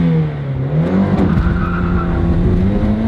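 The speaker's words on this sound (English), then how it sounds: "Let's rev it up a little and see what she's got." Toyota Celica rally car engine revving hard while driving, loud and close throughout with rising and falling pitch, tires squealing through a corner.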